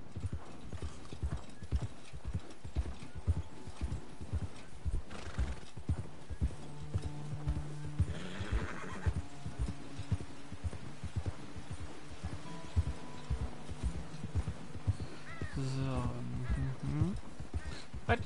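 Horse ridden in a cowboy video game, steady rhythmic clip-clop of hooves throughout with whinnies and snorts partway through, under occasional quiet male speech.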